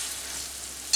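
Snake gourd (chichinga) curry is stirred in a frying pan, a soft steady sizzle with faint scraping, ending in a brief louder scrape of the spoon.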